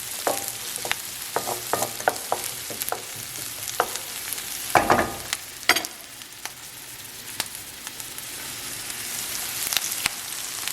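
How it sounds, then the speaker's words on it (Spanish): Salmon goes into a frying pan with onion and garlic, giving a burst of sizzling, then light tapping and crackling from the nearby pan as the frying carries on. "Ya le voy a agregar el salmón."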